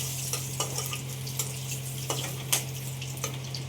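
Cinnamon and a clove frying in a little hot oil in a pan, a steady sizzle with scattered small pops and crackles close up, under a constant low hum.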